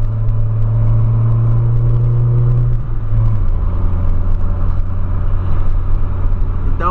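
Steady road rumble and engine drone from inside a Volkswagen Polo cruising on a highway at about 100 to 110 km/h, with a constant low hum, a slight shift in engine tone partway through and no speech.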